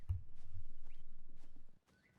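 Steady, rhythmic hoofbeats of a horse walking in Assassin's Creed 3 Remastered, clip-clopping at an even pace before stopping abruptly, with a faint chirp near the end.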